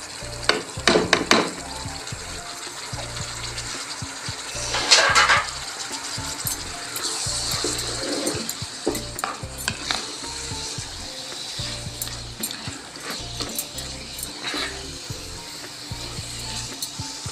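Spices being stirred into chicken frying in a pan for a spicy pickled-style chicken dish, giving a steady sizzle with scraping stir strokes and clinks of the spoon throughout, close and fairly loud, with no talking.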